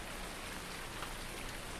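Rain falls in the video game Farming Simulator 19 as a dense, unbroken hiss that stays even and fairly soft for the whole short stretch, with no talking.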